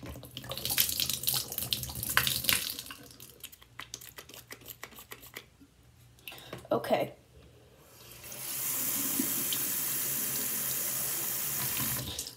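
Water runs steadily from a bathroom tap into a sink for several seconds, a continuous hissing stream, preceded by clattering of containers and a brief spoken word.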